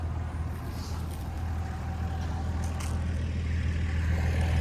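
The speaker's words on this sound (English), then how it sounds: "Here comes my neighbor in a big old loud truck." A big, loud pickup truck passes by outdoors, a steady low rumble that builds slightly toward the end, with no talking.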